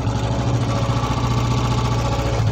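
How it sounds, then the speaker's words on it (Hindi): A Royal Enfield Bullet motorcycle engine idles after starting, its steady low thumping rumble close and continuous throughout, with no talking. "अभी मैं बाइक स्टार्ट करके दिखा देता हूँ"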